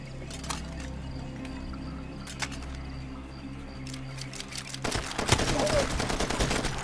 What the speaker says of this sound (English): Ooh, shotgun, alright.